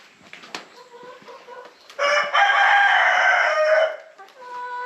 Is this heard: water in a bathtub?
no